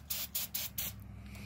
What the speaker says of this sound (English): should I spray some more brake cleaner in here to ignite it?